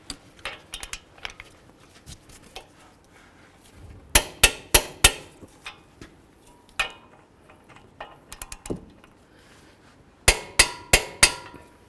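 Torque wrench tightening wheel hub bolts to 125 foot-pounds on an 08-18 Chrysler Town & Country, sharp metallic clicks in quick clusters of four or five with pauses between, close and loud.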